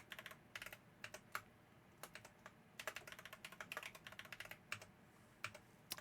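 Typing on a computer keyboard while entering a password during software setup on Windows, irregular bursts of quick close key clicks with short gaps, faint and with no talking.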